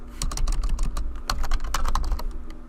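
Rapid typing on a computer keyboard at close range, a dense run of quick clicky keystrokes over a steady low hum, entering a macro name in Excel.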